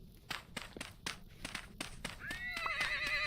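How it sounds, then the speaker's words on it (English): Horse in the video game Vintage Story, rhythmic clip-clop hoofbeats trotting close by, then a wavering whinny rising over the steps near the end. "And there's a horse."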